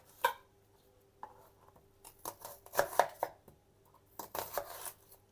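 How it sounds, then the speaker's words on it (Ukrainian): A knife chops two large onions into medium-sized cubes on a board, a quiet scattering of sharp cuts that comes in uneven bursts and clusters. "Дві великих цибулі в мене. Ріжу їх на коцки."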